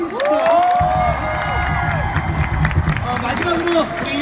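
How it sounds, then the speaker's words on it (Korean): A baseball stadium crowd at Jamsil cheers and applauds after a home win over KIA, a dense roar of clapping and shouts with an amplified voice talking over it. "여러분들 박수 한번 올려주시죠."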